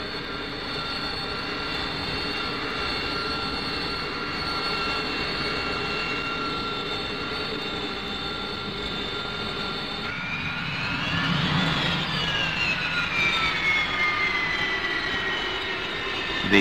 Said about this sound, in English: VMA 542 has operated the Hawker Siddeley AV-8A Harrier V-STOL jet fighter since 1973